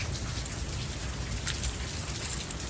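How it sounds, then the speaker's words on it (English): Steady rain falls outdoors beside a garage, a dense even hiss of drops hitting surfaces nearby, with no voices. "So let me step out of the rain here."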